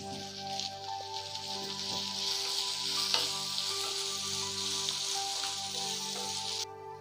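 Green chillies and curry leaves sizzle with ginger frying in a pan for Kerala inchi puli, a steady close hiss that runs evenly throughout with a few faint stirring clicks.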